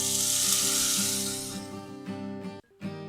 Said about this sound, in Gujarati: વઘારને આપણે ચટણીમાં રેડી દીધો.